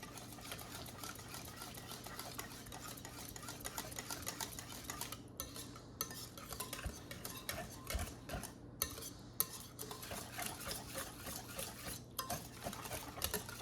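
A spoon scrapes and clinks around a bowl of thick condensed milk and egg mixture, stirred briskly with quiet, repetitive, irregular strokes and no talk.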